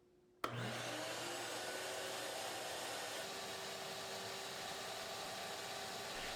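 A shop vac switches on with a sudden thump and then roars steadily, sucking fluid out of a lawnmower into a pop bottle held to the opening; loud, close and constant.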